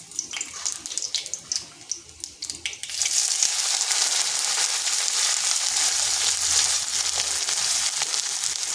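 Onion frying in oil with dried red chili and black cumin in a pan, a loud steady sizzle that swells after about three seconds following lighter scraping and stirring.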